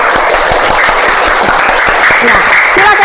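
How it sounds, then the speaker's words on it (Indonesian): Loud, steady applause from a classroom of students fills the whole stretch, dense overlapping claps without pause and no clear talk over them. "Tepuk tangan untuk kelompok 1."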